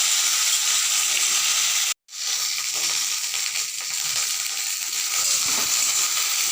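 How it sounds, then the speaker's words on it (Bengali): Okra pieces fry in a pan with a loud, continuous sizzle and crackle. The sound cuts out for a moment, then resumes with faint stirring scrapes underneath. "ঢেঁড়সটা ভাজা হয়ে গেছে এবার এটাকে তুলে নেবো"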